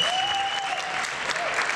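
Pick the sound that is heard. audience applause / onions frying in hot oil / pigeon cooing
audience applause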